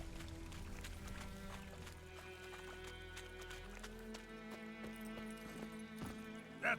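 Hooves of a horse in a video game clip-clopping in a steady walking rhythm, moderately close, over a faint ambient game soundtrack.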